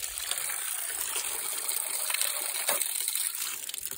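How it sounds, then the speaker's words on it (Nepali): Water pours steadily from a spout in a Himalayan mountain setting, a continuous close rushing splash with no break. "हेर्नु है पानी झरेको"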